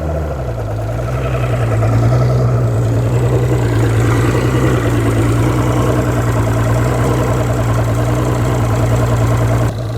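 A bass boat's outboard engine runs loud and close in gear, a steady throbbing drone with a rapid knocking pulse that holds evenly for the whole stretch, with no talking.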